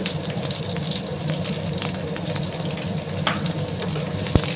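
Onions drop into hot oil with black cumin seeds, giving a continuous dense sizzle up close, brief stirring scrapes and a sharp utensil knock near the end.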